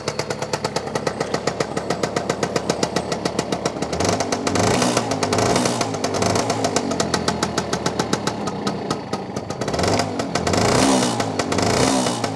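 A 1964 Lambretta Li Series 3 Special scooter with a Casa 185cc kit, its two-stroke engine running close by with a rapid popping idle that rises into several throttle blips and revs, no voices.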